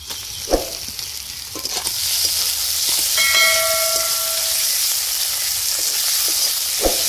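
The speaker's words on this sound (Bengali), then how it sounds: "টমেটো কুচিগুলো দিয়ে দিচ্ছি।" Chopped tomatoes going into a hot curry pan with onion for a bhola fish curry, giving a steady broad sizzle and hiss of frying with a few louder clatters and a brief whistle-like tone partway through, no talking.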